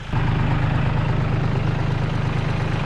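A tractor engine idles steadily with a Split Fire log-splitter attachment hooked up for splitting firewood rounds, a loud, continuous low rumble holding even throughout with no voices.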